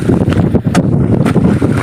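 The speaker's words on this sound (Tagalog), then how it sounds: "Yung hangin galing Negros." Wind from the direction of Negros buffets the microphone on a net-fishing boat at sea, a loud, rumbling roar with gusty surges and no talk.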